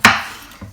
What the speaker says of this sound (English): So I'm going to chop this pepper down, down and down.